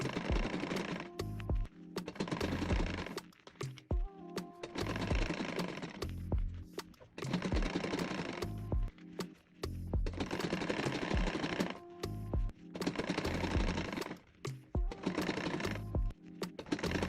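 A sewing machine stitches along a zipper on a baguette bag, running in repeated bursts of rapid mechanical rattling with brief pauses between them and no talking.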